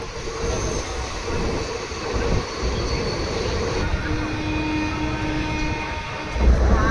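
A passenger train pulling into Santragachi station on the route from Kolkata rumbles and rattles steadily along the rails, with metallic wheel squeals and a rising clatter near the end, heard from inside the carriage.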